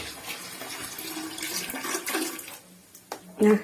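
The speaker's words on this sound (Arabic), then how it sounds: "راه كنخوي عاوتاني هاد الماء" Water drains and splashes steadily while a washing machine is emptied during descaling and cleaning, a continuous rushing flow that thins out near the end before a brief louder gush.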